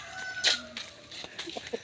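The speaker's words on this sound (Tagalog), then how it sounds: "Yun yung nagtitilaok." Rooster crowing at a nearby outdoor spot, a short bright call followed by a few clucks, moderately loud over faint background noise.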